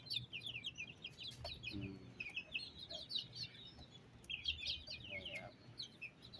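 Mongolian black chickens, young birds raised from home-incubated eggs, cluck and chirp in quick scattered bursts nearby while someone talks quietly.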